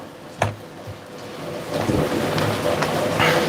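Rain pours steadily outdoors while thunder cracks sharply near the start and then rumbles on and off beneath the downpour, growing heavier toward the end; no one speaks.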